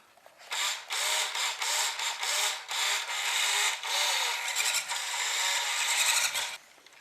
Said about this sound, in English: I found that my drive shafts do slip as I was afraid of